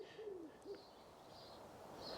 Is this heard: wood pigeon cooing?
yes